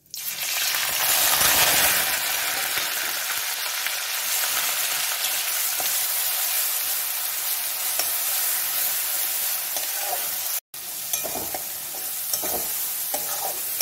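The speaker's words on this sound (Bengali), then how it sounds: "তেল গরম হয়ে গেছে, আমি তেজপাতা আর দুটো শুকনো লঙ্কা চিড়ে দিলাম। পেঁয়াজ বাটাটা দিয়ে দিচ্ছি।" Onion paste sizzles in hot oil with a bay leaf and dried chilies, a loud, close, continuous frying hiss broken by stirring scrapes and one brief dropout, with no voices.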